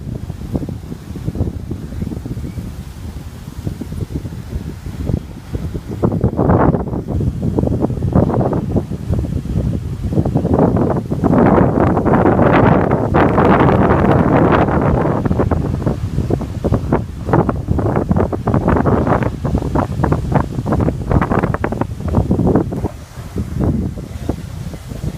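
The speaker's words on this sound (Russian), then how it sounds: "Сейчас, кстати, я покажу море." Sea waves break on a beach under strong gusting wind, a loud continuous roar with surging swells and heavy wind buffeting on the microphone, no voices.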